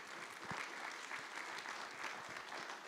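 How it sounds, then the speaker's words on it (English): An audience claps for a presenter at a care event, a steady wash of applause with a few sharper nearby claps, fairly faint and distant. "Martina Derry, give a round of applause, please."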